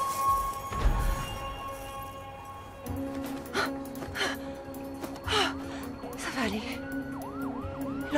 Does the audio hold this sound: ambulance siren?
yes